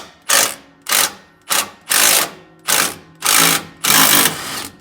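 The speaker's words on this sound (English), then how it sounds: "So I got this impact gun, but it's not a real automotive impact gun." Bursts from a non-automotive impact gun, a leftover sheet metal tool, working a 21mm flag nut bolt on a Jeep Gladiator rear track bar: seven loud, rhythmic ratcheting bursts with short gaps between them, close and alone.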